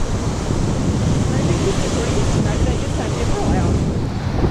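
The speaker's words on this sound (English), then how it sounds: "the wind is pretty horrendous" Strong wind roaring on a bushwalk at Hanging Rock, a constant loud rush buffeting the microphone throughout with no breaks.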